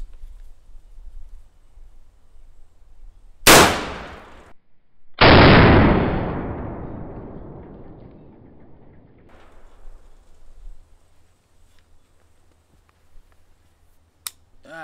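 Two loud, close rifle shots from a Bushmaster Predator AR firing 5.56 rounds at a cinder block outdoors, a couple of seconds apart. The second shot rolls off into a long echoing decay, followed by a faint later thump and a sharp click.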